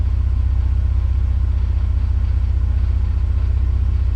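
A warmed-up 1991 Mercedes 300E idles steadily with the AC and lights on, a continuous low rumble with a smooth, even pulse throughout, close and loud with no talk.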